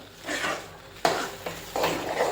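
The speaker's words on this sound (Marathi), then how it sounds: "त्यासाठी एकसारखं आपण त्याला ढवळत राहायचं" Cooked chana dal and jaggery being stirred in a pan, a soft scraping and sloshing that repeats in a few strokes with a light spoon knock against the pan, close by and with no voices.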